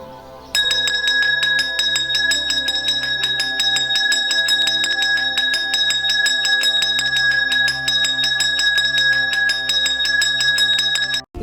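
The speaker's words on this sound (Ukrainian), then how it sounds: "Гучніше дзвонику, гучніше ти лунай." A school's last bell rung at a graduation ceremony in Ukraine, a rapid, continuous, loud metallic ringing that carries on steadily for about ten seconds before stopping abruptly.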